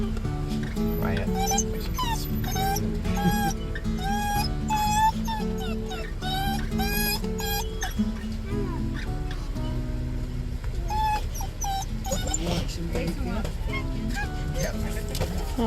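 High, wavering whimpers and yips from a dog named Toffee begging for food, repeated in bursts over continuous background talk and car-like noise.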